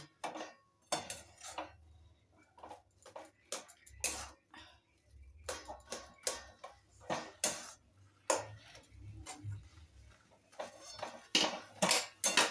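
Food being mixed in a metal pot, with irregular clanks and scrapes of a utensil against the sides, sometimes in quick clusters, close and fairly soft with no voices.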